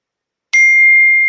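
A phone text message notification ding sounds once, loud and close, then rings on as a steady bright tone after a moment of silence.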